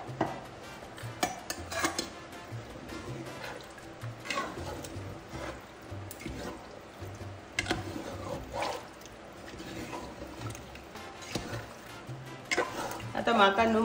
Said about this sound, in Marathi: हांव पयलें उदक घालता